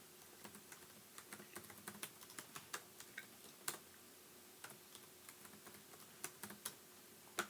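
A password being typed on a laptop keyboard: faint, sparse key taps in an uneven rhythm, some slightly louder than others, in an otherwise quiet room.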